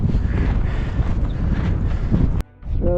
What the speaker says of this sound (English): Just the wind is really kicked up.